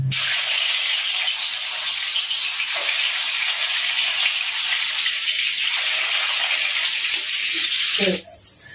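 Katla fish pieces frying in hot oil in a kadai: a loud, steady, hissing sizzle that lasts several seconds, then cuts off abruptly at the end.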